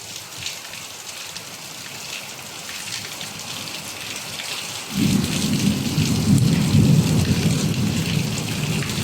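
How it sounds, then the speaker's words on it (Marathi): A thunderstorm over the Konkan coast: steady rain patters throughout while a deep rumble of thunder rolls in midway and keeps growling, loud and continuous with no speech. "ढगांचा गडगडाट तुम्हाला सुद्धा ऐकायला येत असेल"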